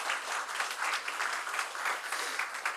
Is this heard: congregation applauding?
yes